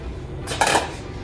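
Chopped onions dropped into a pan of hot olive oil, a single close, sudden burst of sizzling that flares up and then settles back quickly.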